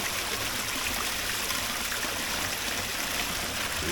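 Spring water flows steadily at a rural waterhole in Jamaica, a continuous soft trickling and gurgling stream with no voices.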